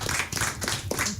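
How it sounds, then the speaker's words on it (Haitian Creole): An audience at a French-language broadcast show claps after a performance, a steady spread of hand claps sustained throughout at moderate level, with a few voices mixed in. "on applaudit s'il vous plaît"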